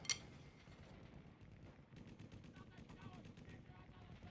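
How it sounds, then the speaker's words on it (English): Machine gun sound effect opening a song, played on a Roland VAD-506 electronic drum kit: a rapid run of sharp staccato bursts repeating steadily over several seconds, moderately loud with a rumbling backdrop. "Starts with Machine Guns."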